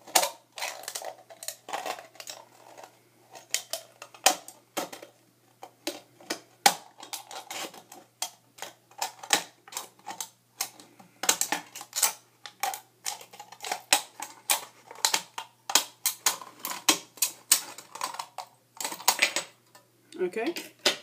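Repeated metallic snips and clicks as scissors cut through thin tin, irregular and close, with occasional quiet voice between cuts.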